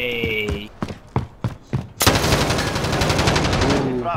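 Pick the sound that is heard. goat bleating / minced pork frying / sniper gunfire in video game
sniper gunfire in video game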